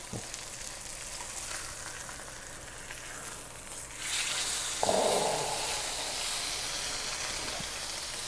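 A wagyu steak sizzles in a hot pan, a steady hiss that suddenly grows louder and brighter as the piece is flipped, then keeps crackling.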